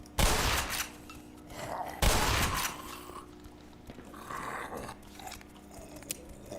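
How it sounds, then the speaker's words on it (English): Two loud, close gunshots boom about two seconds apart as headcrabs are shot in the first-person shooter Black Mesa, followed by quieter in-game rustling and creature noises. "I shouldn't really be wasting ammo on head crabs like that"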